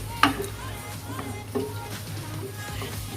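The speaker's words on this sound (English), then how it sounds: "So while waiting for this butter to melt" Butter melting in a pan over medium heat, a low gentle sizzle with a few sharp utensil taps against the pan.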